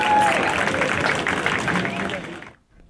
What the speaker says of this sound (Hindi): Can we have the clapping, please?